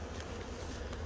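Honey bees buzz around an opened hive while being smoked and driven up through a queen excluder into the supers: a dense, steady, close swarm hum with no pause and no voices.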